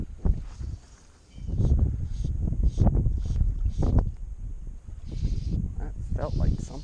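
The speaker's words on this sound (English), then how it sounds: "It's a little windy." Gusty wind while fly fishing near Chattanooga, Tennessee, buffets the microphone in low rumbling bursts, rising and falling, with a person talking nearby.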